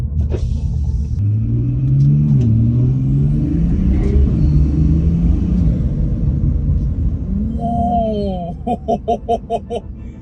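A BMW 340i engine with exhaust flaps closed, in sport mode, revs up through a rising pull, a steady rumbling climb with intake noise, then short sharp blips of revving near the end.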